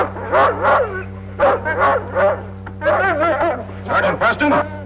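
Sled dogs bark and yip in repeated bursts close by, noisy and excited, over a steady low hum.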